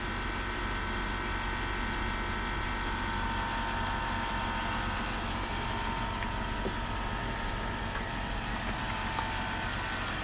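A Land Rover LR3 air suspension compressor pumps with a steady, loud, continuous mechanical drone and hum that runs unbroken throughout, with no speech.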